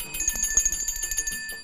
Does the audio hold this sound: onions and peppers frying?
no